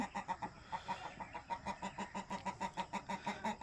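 Short-nosed, long-tailed rooster clucking close by, a steady run of rapid, rhythmic clucks repeating through the whole stretch with no talk.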